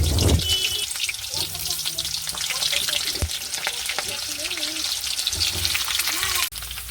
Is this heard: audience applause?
no